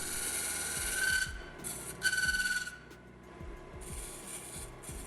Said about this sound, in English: The tool I'm using right now is from Wood Tools. It's a microfine detailer